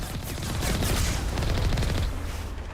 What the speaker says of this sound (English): these guys are all just sort of sitting here shooting at me